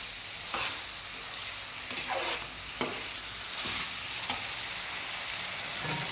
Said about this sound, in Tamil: நல்லா எண்ணெய் எல்லாம் பெருஞ்சி வந்துட்டு இருக்கு.